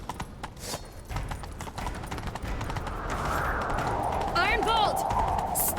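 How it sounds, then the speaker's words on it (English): A horse gallops in The Witcher 3 during a chase, rapid hoofbeats drumming steadily beneath game ambience and a brief whinny, growing slightly louder toward the end. "Grab a horse, we'll chase him down."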